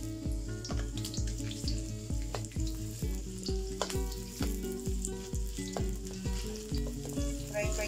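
Onion fries in oil in a pan for a shirataki noodle stir fry, a soft sizzle broken by repeated rhythmic clacks of a utensil stirring and scraping.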